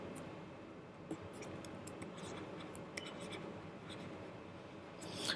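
Hand writing of mathematical notation during a lecture on trace theory, a continuous soft scratching of pen or chalk with faint taps, close and steady, with no talk.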